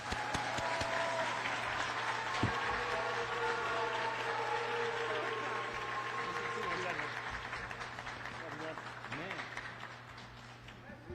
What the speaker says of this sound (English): Can we please get a round of applause for our amazing staff